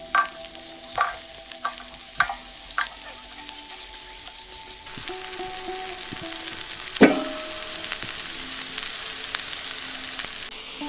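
Broccoli frying in butter and oil in a pan over a campfire outdoors, a constant sizzle with utensil clinks and scraping taps, and a louder clatter partway through, with no talk.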